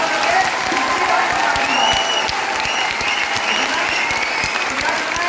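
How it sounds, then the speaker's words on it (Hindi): A crowd at a business training session claps hard for several seconds. The applause is sustained, dense and close, with crisp individual claps standing out over the steady roar, and faint voices underneath. "आपको मेरी बात समझ में आई हो तो ताली बजा दो"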